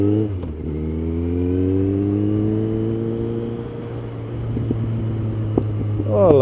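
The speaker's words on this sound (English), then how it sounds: "Oh, I love the sound of this bike." A motorbike engine drones nearby, its pitch rising smoothly as it revs up and holding a steady hum, then climbing again at the end, with no voices.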